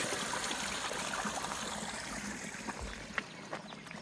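Water spills over a pond wall outdoors in a steady, continuous rush and trickle. It holds close and even throughout, with a few faint clicks near the end and no voices.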